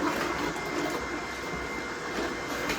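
A Nama J2 juicer steadily processes leafy greens for green juice, a continuous close whirring and grinding hum with no pauses or speech.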